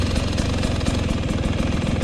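A 2020 Beta 300RR Race Edition two-stroke dirt bike engine idles close by with a loud, rapid, steady popping rattle and no voices.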